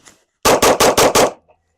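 Five sharp pistol shots fired in quick, even succession during a competition shooting drill, loud and close, with a faint electronic timer tone beforehand.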